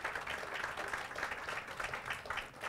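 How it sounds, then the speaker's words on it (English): Faint, steady audience applause at a public event unveiling Riverfront East plans, heard from a distance with a soft, even patter throughout and no voices over it. "Nice round of applause."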